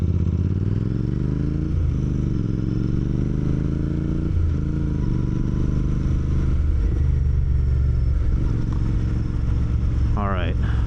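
Motorcycle engine idling and revving steadily during a Chicago winter ride, a loud continuous drone with pitch shifts as the throttle changes, close up, with a person talking over it.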